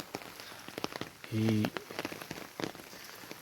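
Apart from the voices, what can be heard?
light rain falling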